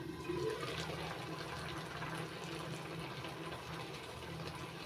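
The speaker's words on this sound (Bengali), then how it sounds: "এবার ঢাকা দিয়ে আমের টুকরোগুলো সিদ্ধ করে নেব।" Raw mango pieces boil in a covered pot over a high gas flame, giving a steady, continuous bubbling and hissing wash of liquid noise that stays even and fairly loud throughout, with no voices.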